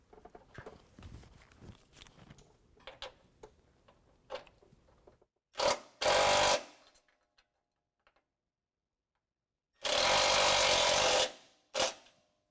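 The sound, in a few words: power tool driving self-threading bolt with 9/16 socket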